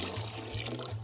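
Water runs steadily from a tap onto potting soil in a pot holding a newly placed avocado seed, a short, soft, continuous trickle close by.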